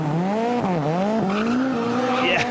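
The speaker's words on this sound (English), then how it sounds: "Big squeal of the tyre." A rally car on the WRC Spain power stage squeals its tyres loudly and steadily, the pitch sliding up and down as the car slides through a corner, close by with the engine audible beneath.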